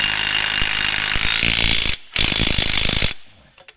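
A Milwaukee 1/2-inch stubby impact driving a 15/16 socket whirs and rattles steadily while tightening a hydraulic pump bracket on a dump truck transmission, with a brief cut in the middle before it winds down.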